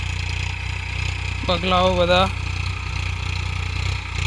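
A tractor working a field at the start of post-monsoon sowing drones in a steady low hum throughout, while someone speaks briefly over it.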